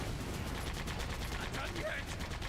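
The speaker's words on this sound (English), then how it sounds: "Shoot him down with the machine gun!" Rapid machine gun fire in the video game SandLand, dense bursts of close, loud shots layered with battle noise throughout.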